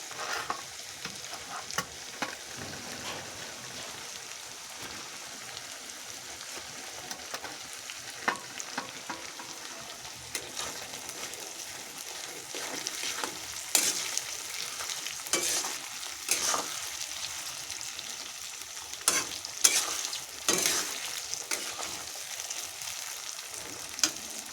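Chicken sizzles in a pan with tomato added, soft continuous frying punctuated by irregular scraping stirs of a spoon, fairly quiet and close, no talking.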